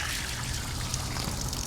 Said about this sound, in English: first thing we need to do is get the water out of there, pressure out.